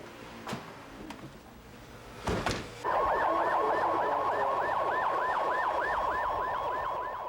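An emergency siren from Seoul fire service vehicles responding to a fire starts abruptly after a few thuds and wails in a fast, regular up-and-down pattern, loud and close.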